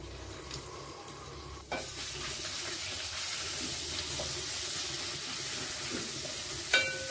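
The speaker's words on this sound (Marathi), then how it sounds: "लसूण आणि मिरचीचा ठेचा आपण छान परतून घेतलाय।" Garlic and green chili paste frying in hot oil with curry leaves and asafoetida, a steady close sizzle with occasional scraping stirs and light clinks from the pan.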